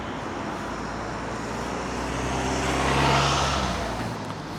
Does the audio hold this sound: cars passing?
yes